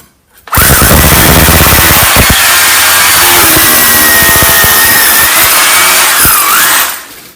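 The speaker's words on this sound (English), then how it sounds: "So I'm starting off with a 10mm drill bit" A loud power drill with a 10mm bit grinds steadily into a stone wall for several seconds, harsh and continuous, then stops.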